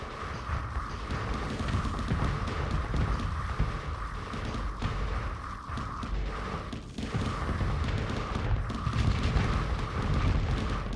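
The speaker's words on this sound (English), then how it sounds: "Missiles are getting through." Missiles strike starships in the StarSector space combat game, a dense, continuous barrage of booming explosions and heavy rumble with a steady mid-pitched hum under it, loud throughout.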